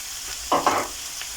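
Minced beef frying in a pan for a stew, with two brief bursts of sizzling as it is stirred, close and fairly loud over a quiet background.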